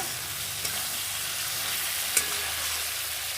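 Potato and pointed gourd curry sautéing with cumin, coriander and turmeric, a steady even sizzle with a couple of sharp knocks from the stirring utensil.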